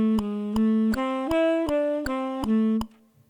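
Steady melodic line of even quarter notes in triple meter, eight clean pitched attacks stepping up and back down at a moderate tempo, sustained bright tone, played alone with no voices.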